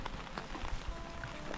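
Morning rain that has kept falling for days patters steadily and close by, a soft, even hiss of drops with faint scattered taps over a short stretch.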